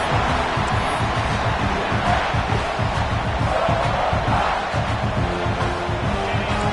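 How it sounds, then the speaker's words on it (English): A large stadium crowd at a Clemson vs South Carolina football game roars continuously, a dense wall of cheering and yelling that stays loud throughout. "this crowd is fired up. Listen to this noise here."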